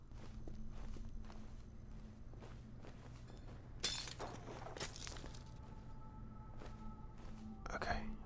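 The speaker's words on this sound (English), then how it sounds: "I just realised I walked on some kind of cracked glass or broken glass there" Footsteps crunch over cracked, broken glass inside the zombie game Zombi, with a few sharp shattering bursts rising above a low steady hum of game ambience.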